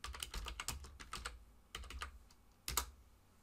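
Command typed on a computer keyboard, a quick run of close, crisp keystrokes in uneven bursts with short pauses between them.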